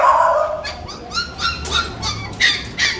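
Puppies whine and give high, thin yips and small barks in a close, repeated burst, with several overlapping cries in quick succession.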